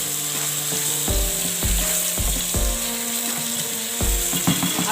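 Tomatoes and onions sizzle in a hot karahi while a utensil scrapes and clinks against the pan in repeated stirring strokes, close up, with a steady frying hiss underneath.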